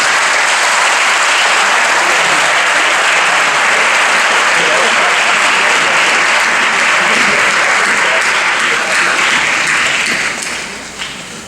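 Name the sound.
audience applause for supporters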